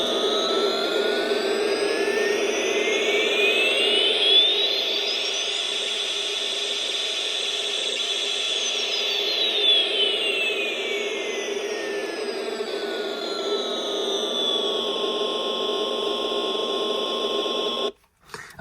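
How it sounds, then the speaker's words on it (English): A vintage 1992 Wesco Thunderbirds Are Go Thunderbird 2 talking alarm clock toy plays its jet engine effect: a steady electronic roar with a rising then falling whine, running about eighteen seconds before cutting off with a click. "let's remove the Thunderbird 2 and let's hear the engines go again"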